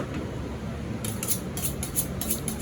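A knife slicing vegetables into fine julienne on a cutting board, a steady run of crisp, close cuts rising into brighter rhythmic strokes over a constant background noise.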